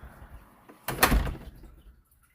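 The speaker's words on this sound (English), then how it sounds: "Finally close your door." A house door fitted with a Yale Assure Lock SL touchscreen Wi-Fi smart lock swings shut with a single soft thud and brief rattle, then quiet.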